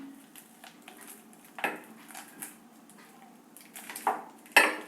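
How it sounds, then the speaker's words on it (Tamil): Cut banana is mashed in a bowl for banana fritters, producing soft, irregular clinks and scrapes of a utensil against the dish, quiet and close, with a sharper knock near the end. "பாருங்கள், நல்லா ஸ்மாஷ் பண்ணியாச்சு வாழைப்பழத்தை."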